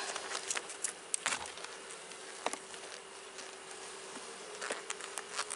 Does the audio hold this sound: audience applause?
no